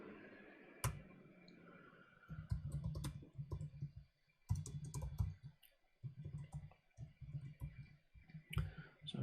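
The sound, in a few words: typing API keys on a computer keyboard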